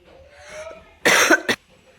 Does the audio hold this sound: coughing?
yes